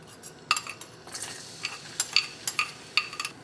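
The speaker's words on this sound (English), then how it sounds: "Chilies and garlic are frying" Minced garlic and chopped green chili fry in hot oil in a wok, a soft sizzle broken by a string of sharp clinks as a utensil stirs and scrapes, close and fairly quiet with no talk.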